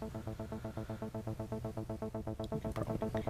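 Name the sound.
Zeta 2 synthesizer 'Noisy Drops' patch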